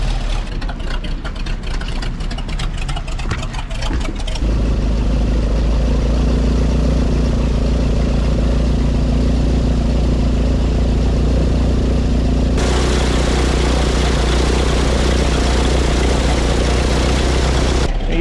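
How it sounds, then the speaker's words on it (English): A car engine idles on choke as it warms up, a steady low rumble that shifts pitch and settles into a smoother, louder drone partway through, with brief handling noise at the start. "Gotta fix the choke on this car. So it's gonna warm up a little bit."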